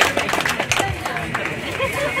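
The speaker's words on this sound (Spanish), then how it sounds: "Fuerte los aplausos para ella, entonces, señoras y señores." Applause from guests at a baptism ceremony in Coyllur, a short patter of clapping mixed with crowd chatter, moderately loud and close.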